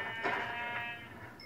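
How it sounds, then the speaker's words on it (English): A sheep in the Minecraft video game gives a short bleat, fairly faint and heard alone without talk, its wavering call rising briefly then fading. "get the sheep"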